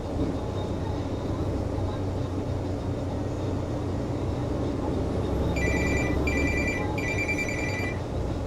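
Three short bursts of electronic phone ringing, each about half a second, sound over a loud steady drone of road and engine noise inside a 2024 Peterbilt 567 truck.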